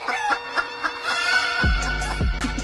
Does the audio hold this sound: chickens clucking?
yes